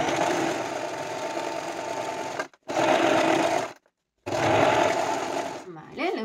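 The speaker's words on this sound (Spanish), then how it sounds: "Y nos vamos a ir a la máquina y vamos a coser por aquí arriba" A sewing machine runs in three steady bursts of rapid stitching through fabric, separated by short silent pauses, close and clear, followed by a brief voice at the end.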